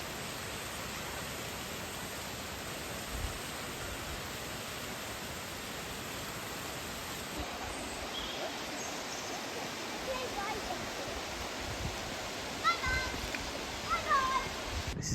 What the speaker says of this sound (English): I do like a nice waterfall.